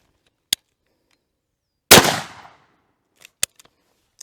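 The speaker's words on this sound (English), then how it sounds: "First up, I got the M855 PMC 62 grain green tip out of a 16-inch barrel." A single sharp, loud crack from an M855 PMC 62-grain green tip round fired out of a 16-inch barrel, striking a Battle Steel level IV 10x12 ballistic plate, with a brief decaying ring. Faint clicks come before it and a few more follow.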